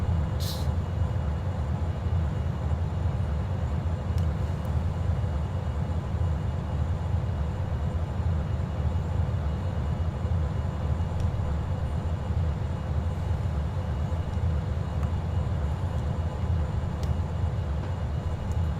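In the Orbiter 2010 game, a steady low rumbling roar of atmospheric drag during reentry holds constant throughout, with faint scattered clicks above it and no talking.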